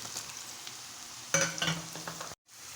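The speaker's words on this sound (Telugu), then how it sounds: "అలా మొత్తం ఫ్రై అవుతూ ఉండగా మన కాకరకాయల ముక్కలు వేసుకుందాం." Bitter gourd pieces fry and sizzle in a hot pan with oil, a steady crackle that jumps louder as the pieces go in and get stirred, then cuts off briefly near the end.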